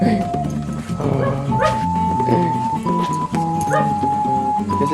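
A spaniel puppy yips and barks in short bursts mixed with high whimpers, close and loud, while people talk and call to it throughout.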